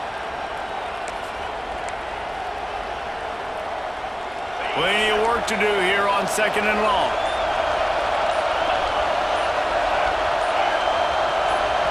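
Stadium crowd roaring in EA Sports College Football 26, a dense, constant wash of noise that swells louder midway with whistles and cheers, while a commentator talks over it.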